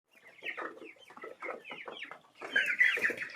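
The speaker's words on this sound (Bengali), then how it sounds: "মুরগি এখন দুপুরের খাবারটা খাচ্ছে" Broiler chickens cluck in a busy, overlapping chatter while eating their midday feed, close by and fairly quiet, growing louder toward the end.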